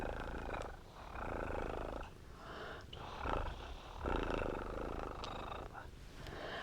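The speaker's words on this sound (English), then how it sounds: "Can you hear her purring?" A cat purring up close, a steady rhythmic purr rising and falling in even cycles about once a second, with no talking over it.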